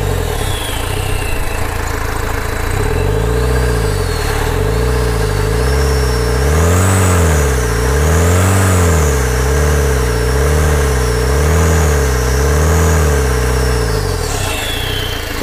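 A Tata Vista diesel car engine with a weak, oil-leaking turbo and a smoke problem idles, then is revved in several smooth swells that rise and fall. It is loud and close, with no talk.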